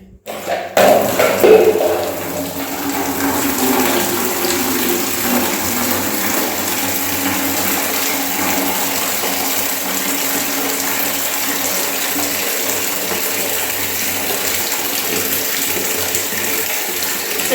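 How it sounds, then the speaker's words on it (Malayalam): Water runs steadily from a tap into a container, a loud, close, continuous gush that starts with a brief splash and then holds an even rushing tone throughout. "ഞാൻ കാണിച്ചു തരാം വെള്ളം നിറയ്ക്കണത്"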